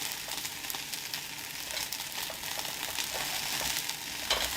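Onion and pineapple sizzle steadily in a hot pan for tacos al pastor, a continuous close frying hiss broken by occasional crackles and soft scraping of tongs.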